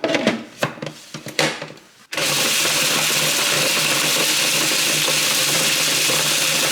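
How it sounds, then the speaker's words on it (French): A few sharp clicks and knocks as stale bread is loaded, then a food processor with an S-blade roars to life and runs at a loud, steady whir, grinding the bread into crumbs. "Prenez un mixeur, idéalement lame en S ou sinon un blender s'il est puissant et on va venir mixer le tout."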